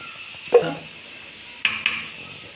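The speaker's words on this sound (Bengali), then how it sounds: "সব মশলা দিয়েই মাছটাকে মাখিয়ে মেখে নিচ্ছি" Metal utensil clinks against a pot while rui and shol fish are mixed by hand with ground onion, garlic, turmeric and chilli powder: a sharp clink, a pause, then a quick double clink, fairly close with no talk.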